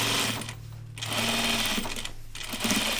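A sewing machine stitches a seam on a kimono in quick steady whirring runs, pausing briefly twice between bursts. The sound is close and moderately loud.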